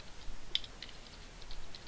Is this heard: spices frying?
no